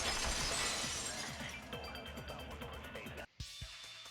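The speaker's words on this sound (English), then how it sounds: "the sound the girls heard wasn't the window breaking. It was a broken vase." Glass vase shattering in the Danganronpa 2: Goodbye Despair video game, a loud dense crash with scattered tinkling shards that fades over a few seconds before a sudden cutoff and a brief clink.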